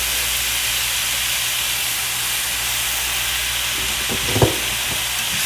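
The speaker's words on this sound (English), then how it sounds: "And then we're going to add some spinach in there." Spinach hitting a pan and starting to wilt gives a steady broad sizzle and hiss throughout, with a brief louder crackle near the end as the leaves settle in.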